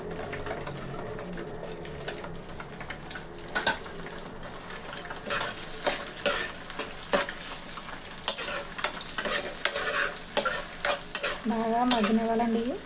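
Green chillies and curry leaves sizzle and fry in a pan for egg rice while a spoon stirs them, a close, continuous crackle with repeated metallic scraping and clinks that grow busier toward the end.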